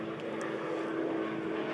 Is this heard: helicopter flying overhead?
yes